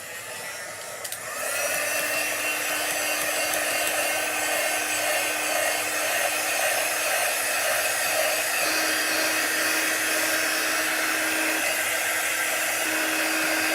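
A hair dryer switches on and runs in a steady, loud whir close by, drying a chalk-painted little craft house, with a constant hum and no talking.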